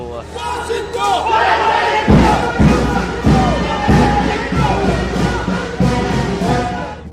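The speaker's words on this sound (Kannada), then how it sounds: "ಬೆಂಬಲಿಗರು ಸಿದ್ದು ಪೂರ್ಣಾವಧಿ ಸಿಎಂ ಸಿದ್ದು ಅಂತ ಜೈಕಾರ ಹಾಕಿದ್ರು" Congress party supporters at a gathering in Mangaluru chant rhythmic slogans for Siddaramaiah, a loud crowd of many voices rising in repeated bursts of cheering and shouting.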